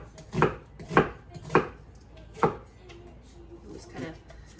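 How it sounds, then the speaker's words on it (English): A knife cuts an onion into thick slices on a board, giving four or five sharp, close thuds at an uneven pace followed by a softer chop, with no talk over them. "Slicing up another onion."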